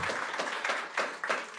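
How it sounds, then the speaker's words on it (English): An audience at a live talk breaks into brief clapping, a dense burst of claps rising and falling in quick waves. "Oh, now you are clapping for satellites."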